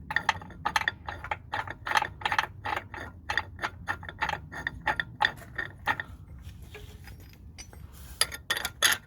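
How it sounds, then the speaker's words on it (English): Two 17mm bolts go into the rear lower suspension control arm of a Mitsubishi, making a rapid series of sharp metallic clicks and ratcheting ticks close up, pausing briefly before a final quick burst. "just gonna slide in two 17mm bolts here"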